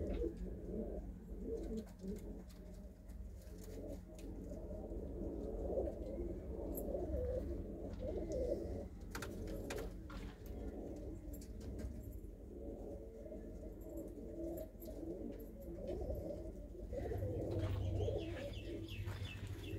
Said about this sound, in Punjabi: ਇਹ ਆਪਣਾ ਕੋਕਾ ਕੋਲਾ ਕਬੂਤਰ